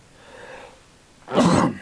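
A single sharp sneeze bursts out near and loud after a brief soft breath, in a quiet room.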